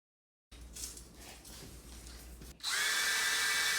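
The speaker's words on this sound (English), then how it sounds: "you'll drill through both the top and the bottom of the PVC pipe" A power drill whirs at close range, first a lower churning as it bites into PVC pipe, then a sharp high-pitched spin that stays steady and loud.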